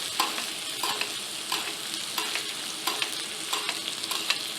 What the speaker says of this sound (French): nos suprêmes et rajouter aussi un petit peu de beurre. Et les laisser chauffer comme ça tout doucement